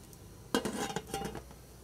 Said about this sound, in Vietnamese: Bây giờ tôi đậy vung.